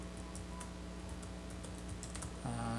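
Close, quiet clicking of keys on a computer keyboard as someone types a website address, a steady patter of taps over a faint constant hum.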